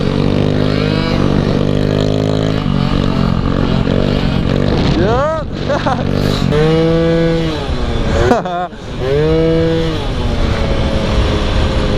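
Two-stroke Honda Elite scooter engine revving hard during a wheelie, close and loud, with repeated rising and falling rev sweeps and a brief cut mid-run, while people talk and shout nearby.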